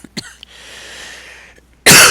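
A cough on a podcast recording comes in a short burst with a breathy rasp afterward, followed by a loud noisy blast at the end, close to the microphone.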